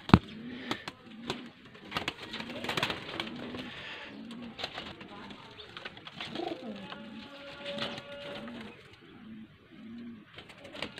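A young Kasuri pigeon cooing in a loft, repeated soft low coos in a steady rhythm, close and fairly quiet, with light handling knocks and rustles.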